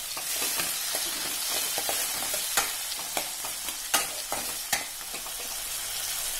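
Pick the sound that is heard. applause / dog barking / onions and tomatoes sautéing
onions and tomatoes sautéing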